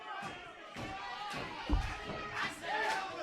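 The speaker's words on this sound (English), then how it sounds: "Kanoa now getting the support from this crowd." Wrestling crowd at a Slamfest live event roaring in support of Kanoa, a dense sustained cheer with shouts rising and falling over about three seconds, one brief thump partway through.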